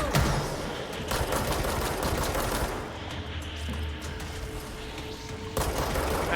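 Rapid, continuous automatic gunfire rattles in a video game as a weapon empties its whole magazine into an orb, a dense unbroken burst of shots at steady volume for several seconds.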